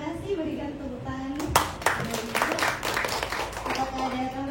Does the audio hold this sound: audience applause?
yes